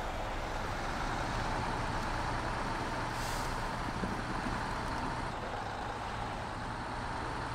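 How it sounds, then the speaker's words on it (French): Truck being moved in the off-road video game SnowRunner, a continuous loud engine drone with dense broadband noise holding steady throughout, and a brief hissing burst near the middle. "Ce camion il faut que je le bouge."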